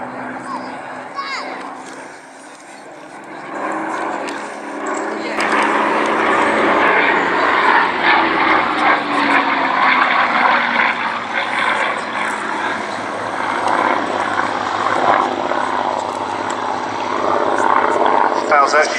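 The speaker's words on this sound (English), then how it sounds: "I'm flying a Hurricane, now I've got to land it." A Hawker Hurricane propeller plane flies at an air show, its engine droning loud and rising as it passes, with speech heard over the roar.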